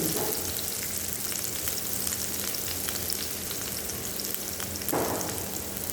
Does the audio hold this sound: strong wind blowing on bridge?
no